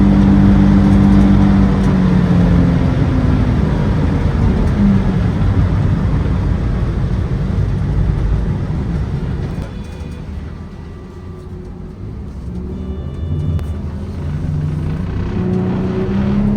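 A loud, steady engine roar from a 2024 Jeanneau NC 795 Weekender boat running at full throttle, droning continuously, easing off briefly midway, then building again.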